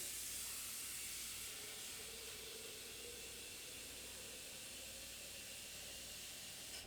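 Water heating for tea gives off a soft, continuous steam hiss, faint and steady with no voices over it.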